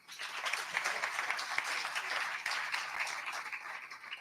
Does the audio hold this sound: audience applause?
yes